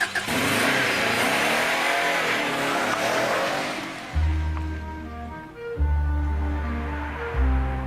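Engine of a Series McRae Subaru Impreza turbo rally-prepared road car, heard in a loud sustained rushing run that settles into a few deep, steady revving bursts with clear harmonic tones near the end.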